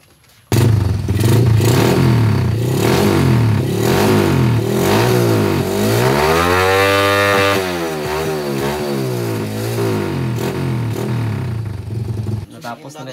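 An XRM 110 motorcycle engine fitted with a racing CDI runs close and loud, clattering at idle, then revs up and back down in a sweeping surge before cutting off abruptly.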